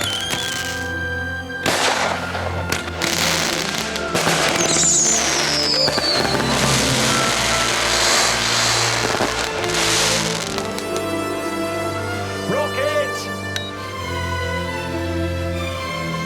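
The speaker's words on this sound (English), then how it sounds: "Ready with rocket ignition. Finale." A fireworks rocket finale goes off in a sustained, loud barrage of whooshing launches, crackles and bursts. A rising whistle cuts through midway, and the volley thins out toward the end.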